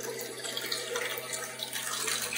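Water rushes from a freshly opened valve on a plumbing unit, a steady broadband hiss and gush that holds at an even, moderate level with no speech over it.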